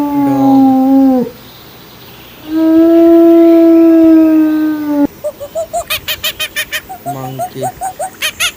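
A dog howls in long, drawn-out tones, two sustained howls at the start, followed by a run of short, rapid, evenly pulsed calls, close and fairly loud.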